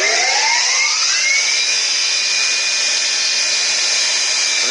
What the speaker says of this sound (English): Come out here and start the grinding spindle.